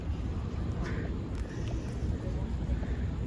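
Ducks quack a few times in Central Park, New York City, short calls rising over steady wind and low outdoor rumble, with a faint murmur of people in the background.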